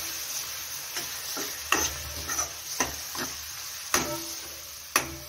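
A spoon stirs a potato and pea curry seasoned with cumin and turmeric, making several sharp scraping clicks against the pan over a soft, continuous sizzle, close by.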